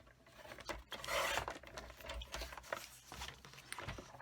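Shimmer paper is cut for a card, close and fairly soft, with a continuous rasping, rubbing scrape that swells briefly in the middle.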